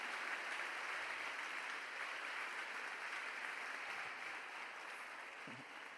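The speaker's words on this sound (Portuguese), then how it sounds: "eu quero que você nesse momento aplaude a vida desse salva-vidas" An audience at a carnival-season church congress claps steadily, a dense sustained wash of applause heard from a distance at low level throughout.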